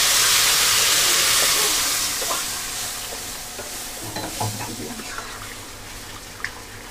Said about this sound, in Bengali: এইবার আমি জল দিয়ে দেবো